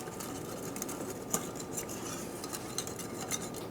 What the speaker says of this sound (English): I'm going to stir this continuously for a couple of minutes.